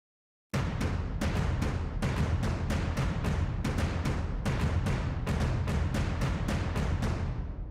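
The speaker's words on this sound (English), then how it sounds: "Let me just unsolo these and show you the tribal drums." Tribal-style drums in a music composition play alone, loud and close, with repeated heavy booming hits in a driving, uneven rhythm and long decaying tails.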